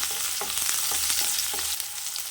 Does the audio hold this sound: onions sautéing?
yes